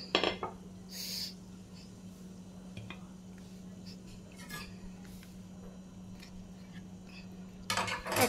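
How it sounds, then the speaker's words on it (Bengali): A spoon stirs Sprite mojito in a glass, with faint clinks and scrapes against the glass over a low hum, a few louder knocks at the start and end. "ঢেলে দেবো স্প্রাইট। ভালো করে ঘুলিয়ে নেব ভিতর থেকে একদম।"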